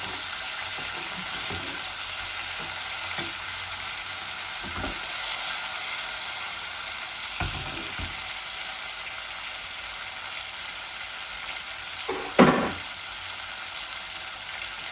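Curry of bottle gourd and tilapia frying in hot oil gives a steady, close hiss throughout, with a few soft stirring knocks and one sharper clatter near the end.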